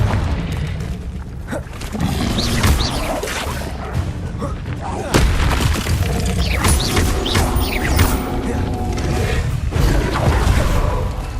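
A Confringo spell in Hogwarts Legacy bursts with a loud boom amid dense, continuous combat noise: crashing impacts, mechanical clatter and whooshing effects throughout.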